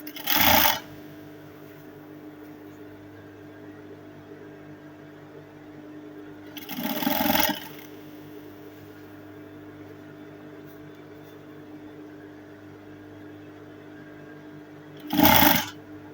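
A sewing machine stitches the shoulder seam of an Ankara ball dress, joining lining to main fabric, in three short loud bursts spaced several seconds apart, with a faint steady hum in between.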